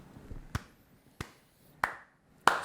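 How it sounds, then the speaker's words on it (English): Four single handclaps, spaced slowly and evenly about two-thirds of a second apart, sound close and crisp in a quiet room, each a bit louder than the one before. "Slow clap."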